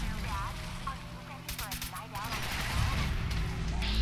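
Gunfire in the Fallout 4 Nuka World add-on at the Nuka bottling plant, a string of rapid shots crackling in bursts over a dense game soundscape while someone talks throughout.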